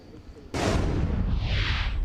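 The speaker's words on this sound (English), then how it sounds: "it does appear that we're hearing some gunshots in the area" Gunfire in the area during a live outdoor news report: a sudden loud blast cracks out, then rolling echo and sustained noise follow for over a second.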